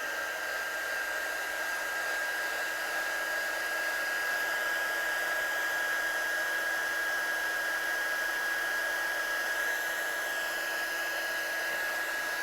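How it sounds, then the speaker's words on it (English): A heat tool runs steadily to heat-set ink on white cardstock, a constant close whirring blower hum with a thin high whine, unbroken for the whole stretch. "So I'm just going to heat set this one."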